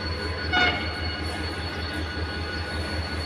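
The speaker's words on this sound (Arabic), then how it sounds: "قطر التلج اهوت" A high-speed Talgo train rumbles past in Damanhur, Egypt, with steady low clatter and a brief high metallic squeal, a continuous roar close by with no voices.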